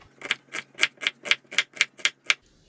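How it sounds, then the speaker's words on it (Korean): A knife chops half an onion on a cutting board in about ten evenly spaced, crisp strikes at a brisk, steady pace. Close and clear, with no talking. "양파 반 개 다져줄게요."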